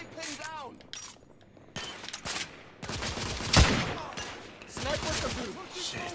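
Gunfire from The Order 1886 comes in bursts of rapid shots in a third-person shooter firefight, with a loud blast in the middle, while someone talks between and over the shots.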